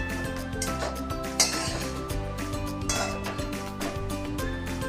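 Grated carrots are stirred with four spoons of ghee in a pan for gajar halwa, with repeated metallic clinks and scrapes of a spoon against the pan over low background music, close and steady.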